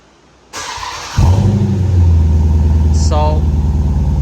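A Jeep Grand Cherokee SRT with an MBRP Armor Lite exhaust cranks over with a starter whir, fires into a loud rising rev, then drops to a deep, steady idle close up; a brief voice is heard.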